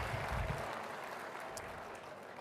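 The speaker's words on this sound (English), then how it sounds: "Let's give them a huge round of applause." A crowd at a farm bureau convention stage applauds competition sponsors, a broad continuous wash of clapping that starts a bit stronger and stays even and moderately loud throughout.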